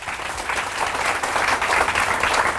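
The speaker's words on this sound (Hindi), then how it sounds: "जोरदार ताली आपने लिए।" Audience applause at a motivational business training event in Mumbai, a dense, steady burst of clapping from a crowd that builds slightly and holds for a few seconds.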